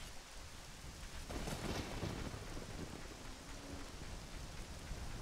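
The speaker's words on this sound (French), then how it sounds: "Alors, il pleut." Continuous rain falling with a dense hiss in The Legend of Zelda: Ocarina of Time, with a brief low rumble partway through; no voices.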